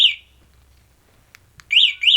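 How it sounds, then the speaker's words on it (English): A loud electronic motorcycle burglar alarm chirps with a warbling tone, pauses briefly with a couple of clicks, then resumes its rising and falling wail. "the burglar alarm still works"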